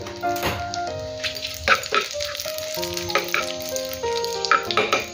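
Fennel seeds, dried red chillies, a bay leaf and kasuri methi fry in a pan with a soft crackling sizzle and occasional spoon stirs and taps. Background music plays over it, and there is no speech.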